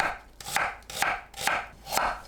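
Knife chopping a carrot into fine julienne strips on a cutting board, a steady series of five crisp, close knife strokes about half a second apart, with no voices.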